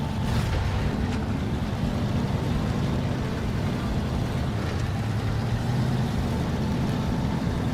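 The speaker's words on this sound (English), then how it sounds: "How fast this water is." Fast-flowing river water in the video game Snow Runner, set near Smithville Dam in Michigan: a steady, loud rushing wash with a constant low rumble, unbroken and alone for several seconds.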